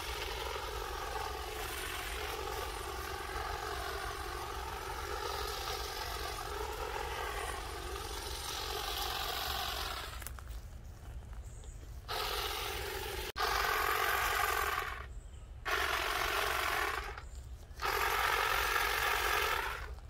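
Saker cordless grass and hedge trimmer cutting through an overgrown hedge outdoors, a continuous buzzing motor drone that starts and stops in short bursts toward the end.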